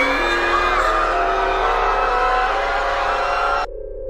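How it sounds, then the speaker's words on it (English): A long, loud, sustained scream on a recovered cassette tape in an analog horror series, holding steady for several seconds before the recording cuts off abruptly into low hiss. "As we hear a scream, and then the tape ends."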